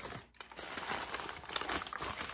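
Old paper wrapping crinkles steadily as vintage estate-sale Christmas items are unwrapped from a tote, a close, continuous rustle with a brief pause near the start.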